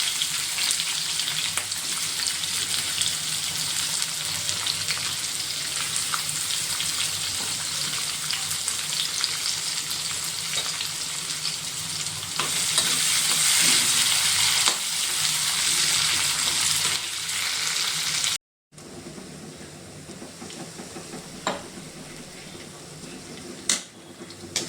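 Onions frying in hot oil with cinnamon and cumin for brinjal biryani, a loud steady sizzle that swells midway, breaks off briefly, then resumes quieter with occasional stirring clicks.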